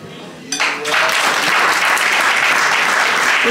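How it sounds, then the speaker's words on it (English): Wedding guests break into loud, sustained applause in a hall, the clapping starting abruptly and holding steady throughout. "another round of applause for us"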